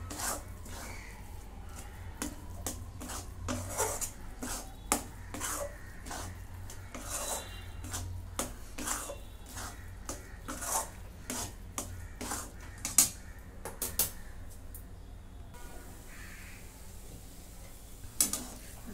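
A spoon scrapes and stirs a dry coconut barfi mixture flavoured with cardamom powder in a pan over a very low gas flame, producing close, repeated rasping strokes at a steady rhythm with no talk.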